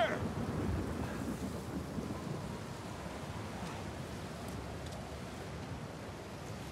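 Rain in the video game Uncharted 4, a dense, even wash of falling rain that stays broad and steady, slightly louder at the start, with no voices.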